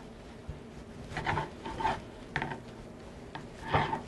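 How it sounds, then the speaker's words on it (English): A knife cuts slices of eggnog panettone into cubes in a home kitchen, making quiet rasping, sawing strokes in short bursts. The cutting is close by and there is no talk. "So I've got my slices, and I'm going to cut them into cubes."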